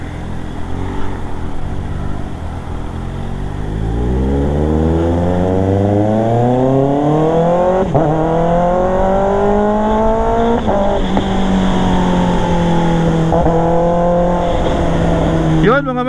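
A Kawasaki ZX-6R with an SC Project exhaust revs from idle up through a rising, climbing howl, holding high and loud with sharp rev spikes, someone talking beneath it.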